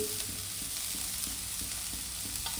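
Chopped carrot, cabbage, beans and cauliflower sizzle and frying steadily in a pan for a veg Manchurian momo filling, with a soft periodic scrape of stirring throughout and no talk.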